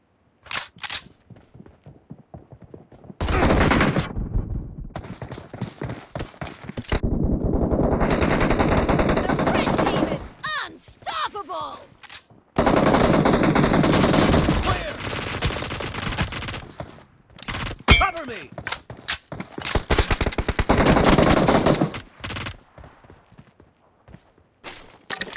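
Machine gun fire from PUBG Mobile gameplay in a team deathmatch, with long loud bursts of automatic shots broken by short pauses and quieter clicks, several sustained volleys rattling close by.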